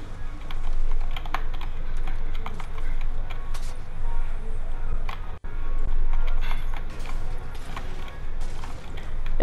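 Rapid, continuous typing on a computer keyboard by a mouse-and-keyboard PC gamer, dense clattering keystrokes close up and fairly loud, with a brief pause midway.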